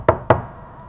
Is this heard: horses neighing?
no